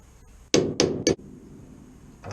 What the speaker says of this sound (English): finding the middles of the spot welds, giving them a little tap in the centre